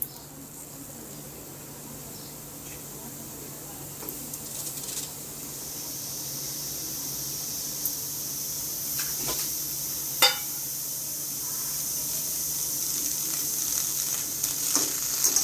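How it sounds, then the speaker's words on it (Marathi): Dried Bombay duck (bombil) sizzles in a wok over low heat, with a steady hiss that slowly grows louder and a few sharp pops. "आता हे बोंबील कढईमध्ये टाकायचे."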